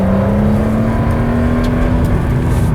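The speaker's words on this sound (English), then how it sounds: "So that deep, kind of really evocative flat six exhaust, a bit muted by the turbos" Deep flat-six exhaust of a Porsche 911 Turbo S, slightly muted by its turbos, droning steadily and loud while the car corners through bends, with a sustained engine note and no talk.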